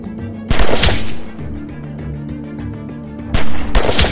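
Gunfire in The Walking Dead 400 Days video game: two loud bursts of shots, one near the start and one near the end, over a low game soundtrack, with faint voices in between.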